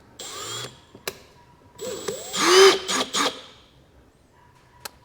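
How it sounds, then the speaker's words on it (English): A power drill running counterclockwise whirs in a few short bursts, the longest near the middle, with clicks and small mechanical clatter between them. "Use the drill side"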